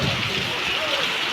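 Steady heavy rain pours down in a continuous dense hiss, loud and close, filling the whole moment without a break.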